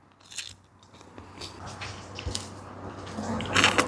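Close crunching bites into a crisp wafer cone of gelato, several brittle cracks and crackles growing louder toward the end, with no talk over them.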